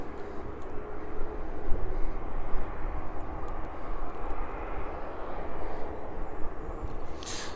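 A Boeing 747 cargo aircraft's engines produce a loud, continuous broadband roar at an airport, with an even rumbling drone and no speech.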